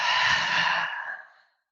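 A single deep breath during a yoga breathing exercise in a tantra-hatha class for lung health: a strong, airy rush lasting over a second that fades out smoothly into silence, with no talking.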